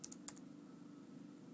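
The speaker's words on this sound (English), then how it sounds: "you can hear me typing and the letters are slowly making their way in" Keys on a computer keyboard tapped a few times in quick succession near the start, light crisp clicks that give way to a quiet steady hum.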